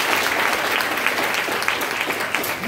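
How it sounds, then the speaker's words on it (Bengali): An audience at a freshers' welcome ceremony claps loudly for the parents, a sustained, even crowd applause lasting a few seconds without a break. "এইবার আমাদের অভিভাবকদের জন্য একটা জোরে হাততালি।"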